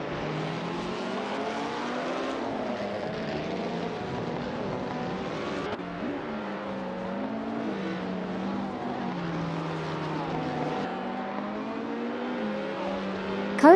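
A pack of AI-driven 1950s Formula 1 cars races around the Bahrain circuit in a simulator game, engines droning steadily with wavering rising and falling pitch as they shift gears, loud and continuous throughout.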